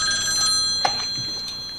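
A telephone rings indoors with a bright, shrill electronic trill that sounds clearly and fairly loud over a quiet room, with no talking.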